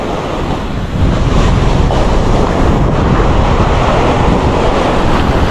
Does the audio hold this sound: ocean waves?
yes